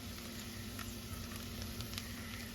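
Onions frying and starting to brown in a pan for vegetable soup, a steady close sizzle with soft crackling, heard alone at moderate volume.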